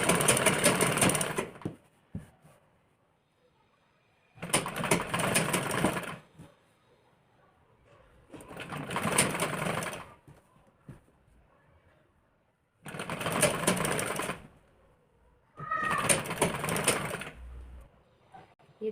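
Sewing machine stitching a blouse piece, running in five steady bursts of a couple of seconds each with quiet pauses between, close and fairly loud with no talking.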